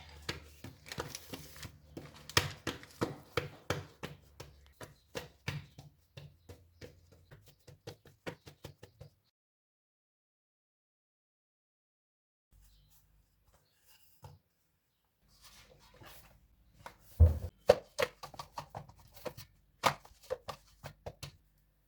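Knife cutting through msemen bread dough on a work surface, a fast run of sharp, close taps and chops, then a pause of silence before a sparser set of louder cuts and knocks. No voices.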